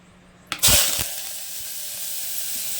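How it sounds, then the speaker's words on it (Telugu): Onions dropped into hot oil in a pan for capsicum curry burst into a sharp, loud sizzle, then settle into a steady, close frying hiss. "ముందు నూనె, ఉల్లిపాయలు వేద్దాం"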